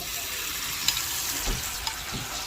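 Tamarind water is poured into Korat-style stir-fried rice noodles in a hot pan, producing a steady, loud sizzle with a few soft clinks of stirring and no talk.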